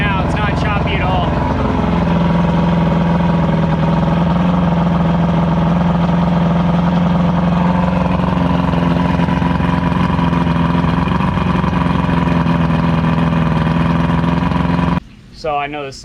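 Evinrude V4 crossflow outboard from the 1987–98 range, fitted with new roller cam followers, idling smoothly with no exhaust back pressure: a loud, steady, even drone with a slight pitch drop at the start, cutting off near the end.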